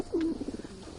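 A pigeon cooing close by, a single soft low throaty coo with a short rolling warble, over faint background noise.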